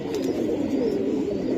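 Giribaz pigeons coo softly and steadily close by, a low throaty murmur with a faint twitter over it and no one talking.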